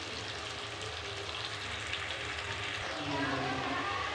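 Masala sizzles in hot oil for a rajma dish made without onion or garlic: a steady, close, continuous frying hiss with a faint low hum underneath.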